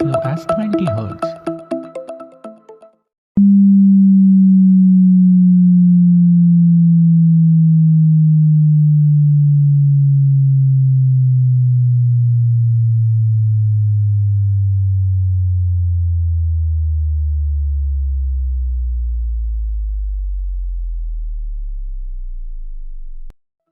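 After a short burst of other sound, a loud pure sine tone glides slowly downward from 200 Hz to 10 Hz, pulsing faintly as it falls.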